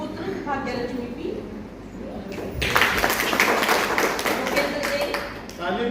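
An audience claps for child performers at a stage event. Scattered clapping under a speaking voice builds into a burst of full applause partway through and continues.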